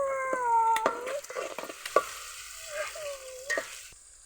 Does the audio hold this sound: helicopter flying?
no